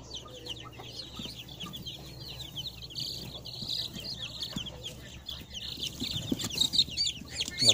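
Three-day-old mixed native chicks, a silky crossbreed, cheep continuously in a dense chorus of thin high peeps, close by, growing busier and louder toward the end.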